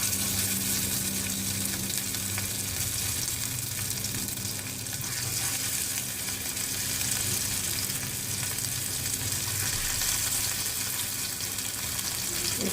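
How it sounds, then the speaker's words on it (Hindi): Chapli kebabs frying in a pan of hot oil, producing a continuous dense sizzle and crackle that stays steady and close throughout, with no talking. "जब तेल गर्म हो जाए तो इसमें"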